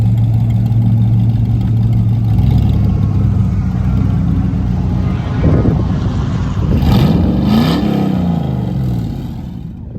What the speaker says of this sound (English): Yep, those are those Hooker Blackheart exhaust cutouts.